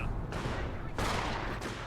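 Rapid gunfire bursts from a machine gun bunker in a Company of Heroes 2v2 battle, dense and sustained across the whole stretch, with louder surges partway through and no talking.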